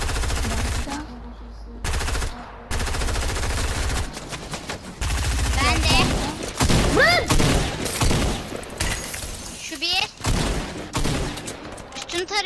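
Automatic gunfire in Fortnite, rapid loud bursts of shots in several sharp volleys with brief gaps between them, close and intense, with people talking over the shooting.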